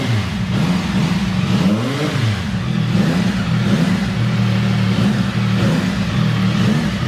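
CF Moto 675SR-R motorcycle engine held at a steady, loud idle-to-rev drone in neutral, with rising and falling swells as the throttle is blipped against the rev limiter, close to the bike.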